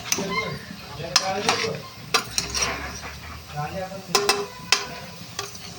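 Prawns frying in a pan for a prawn curry, with scraping and stirring clatter of a utensil against the pan over a low, steady sizzle, a few sharp knocks standing out.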